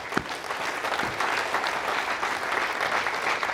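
Sustained audience applause at an Arianespace launch event, a dense, even crowd of clapping hands filling the room for several seconds with a few sharper claps near the start.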